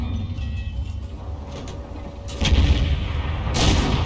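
Tank cannon fire in World of Tanks around an Object 907 and a Foch, heard as two heavy booming blasts with rumbling tails, the second louder and sharper, over a low steady engine hum.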